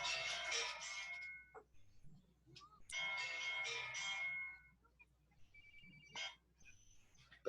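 A mobile phone rings during an online physics class, repeated bright electronic ringtone bursts that are fairly faint and broken by pauses.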